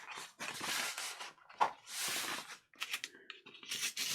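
Scissors snipping off the ends of scrap paper, a few short crisp cuts separated by brief pauses, close and fairly quiet with no talking.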